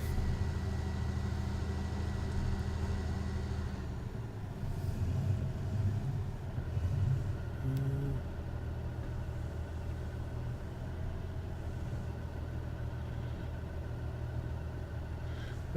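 A farm tractor in Farming Simulator 19 drives out to plant corn seed, its engine a steady mid-pitched rumble running continuously with slight swells, with no voices.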